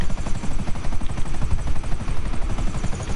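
Helicopter pursuing the player in Grand Theft Auto V, a steady pulsing rotor chop with dense engine drone running loud and continuous, mixed with game noise and possible gunfire.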